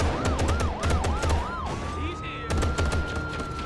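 A police siren in a video game wails loudly with fast rising and falling sweeps, then settles into a steady tone, while rapid gunshots crack repeatedly over it at close range.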